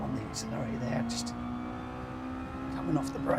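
A race car in Gran Turismo 7 accelerates with a steady, faint engine drone that rises slightly in pitch, heard under a voice.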